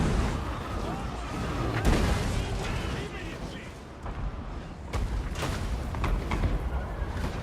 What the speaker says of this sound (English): So the artillery is just going to start hammering into their front line.